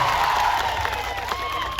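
A political rally crowd applauds and cheers for a tribal-community MLA from Dediapada, clapping and shouts mixed with a sustained tone from the sound system.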